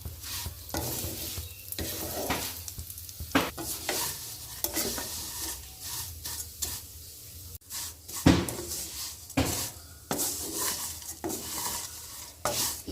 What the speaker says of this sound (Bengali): এটাকে আমি ভালো করে লাল লাল করে ভেজে নেব।